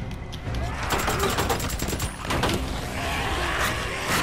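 Rapid bursts of video game gunfire from Days Gone crackle through a dense fusillade, repeated shots close and loud across the whole stretch, with a voice talking faintly underneath.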